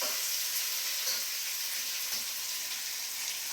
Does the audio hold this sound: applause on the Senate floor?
no